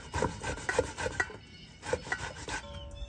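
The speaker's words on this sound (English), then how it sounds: "I'm going to grate the potato." A potato is grated by hand for corned beef hash, close rhythmic rasping strokes in two quick bursts with a short pause between, and no talking.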